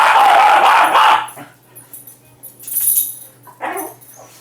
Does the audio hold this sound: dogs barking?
yes